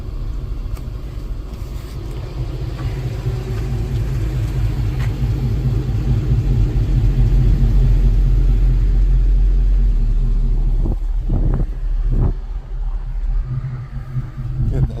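A song blasting through a car audio amplifier on big power, dominated by heavy, booming bass that swells louder midway, with a few sharp thumps near the end.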